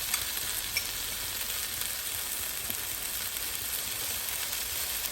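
Green chilies with their seeds removed fry in a pan alongside softening eggplant for vegetarian kababs, giving a steady, moderately quiet sizzle that holds unbroken throughout with no talking.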